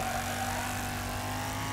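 A steady, droning car engine hums throughout with a constant tonal whine in the Wreckfest demolition-derby racing game, held at an even level without clear revving, and no one speaks.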